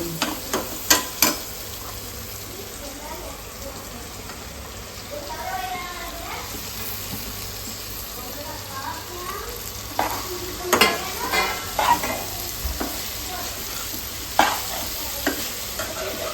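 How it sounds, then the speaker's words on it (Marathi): Okra frying in a pan with turmeric and masala for a home-cooked bhaji, a low steady sizzle broken by sharp spatula scrapes and clinks, with a faint voice audible in places. "आता याच्यामध्ये टाकून घेतो आपले भेंडे"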